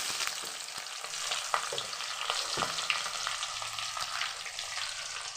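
Mustard seeds and onion frying in about 150 grams of hot oil for a chicken kulambu, a constant close sizzle with scattered pops and crackles.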